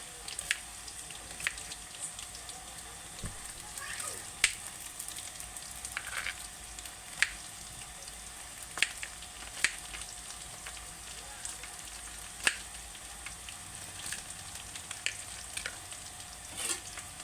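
Okra and onions frying in a pan for a Telangana-style bhindi fry, a quiet steady sizzle with scattered sharp ticks and pops from stirring running throughout.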